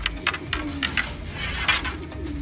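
A pigeon coos close by in a few soft, throaty phrases, with light clattering in the background, at a pigeon training session in Villasis, Pangasinan.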